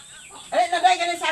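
A chicken clucks close by in a short burst of a few quick clucks after a moment of near quiet, as chickens are being fed.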